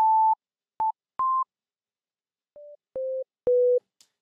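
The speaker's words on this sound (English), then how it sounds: "If I have a sine wave playing right here, it's about 100 something hertz." A series of short, pure electronic tones at different pitches, beeping one after another with brief silences between them.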